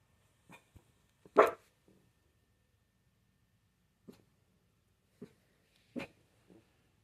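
Dog barking indoors at someone passing the window, a few sharp, scattered barks and gruff woofs spaced out over several seconds, with quiet gaps between them.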